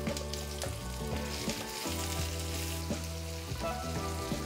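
Onions sizzle steadily in a hot pan with chilli for an idli burger filling, a dense continuous crackle with a faint musical tone running underneath throughout.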